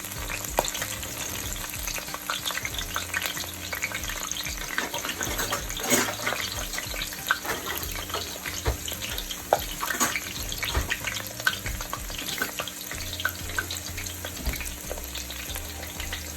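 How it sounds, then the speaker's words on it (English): Scotch bonnet pepper and onion fry in oil in a pan while chicken is being prepared, giving a constant crackling sizzle with scattered pops and some water or tap noise in the background, and no talk. "Scotch bonnet pepper, and some onion. Alright, let that release its natural goodness up into the oil for me."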